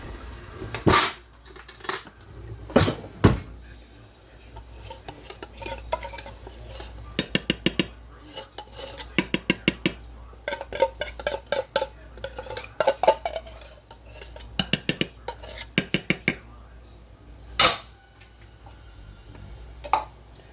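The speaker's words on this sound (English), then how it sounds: "Now what I do to get all of it out is I scrape it out with a spoon." A spoon scrapes a sticky mixture out of a container in bursts of quick, close metallic scratches and clicks, separated by short quiet gaps.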